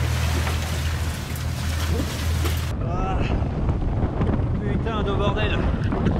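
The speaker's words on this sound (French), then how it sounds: "Rafale à 30 nœuds." Strong wind gusts of about 30 knots roar across a sailboat at anchor off New Providence in the Caribbean, buffeting the microphone with steady, loud rushing noise while a man swears briefly in French.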